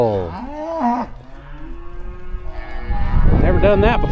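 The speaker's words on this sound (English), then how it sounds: "We are moving cattle." A herd of cattle being moved gives several loud moos close by, one long call followed by a pause and then a rougher, overlapping bellow.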